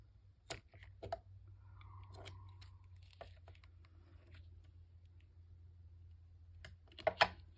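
Scissors trim loose hanging bits off a looped craft piece, giving a few quiet snips and clicks scattered over a faint steady hum, with a sharper cluster of cuts near the end.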